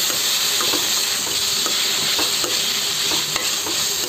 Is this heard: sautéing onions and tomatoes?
yes